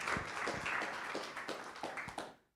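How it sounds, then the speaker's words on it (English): Brief applause at a protocol and MEV conference day in Berlin, a room of listeners clapping for a speaker from the Ethereum Foundation; steady, fairly faint clapping for about two and a half seconds that stops abruptly. "Quick round of applause for Julian."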